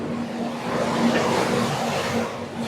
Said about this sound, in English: We have a truck.